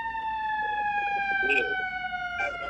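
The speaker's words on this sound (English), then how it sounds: "Hold on, there's ambulance and shit." An ambulance siren wails in steady rising and falling tones, clear but at moderate distance, while a voice speaks briefly over it.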